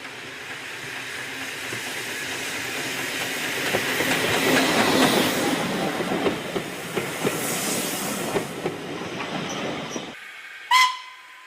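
A steam locomotive, coal tank engine 58926, rumbles past running downgrade near Haworth with steady hissing and rhythmic clicking of wheels, fairly close, then cuts off abruptly before a brief sharp tone.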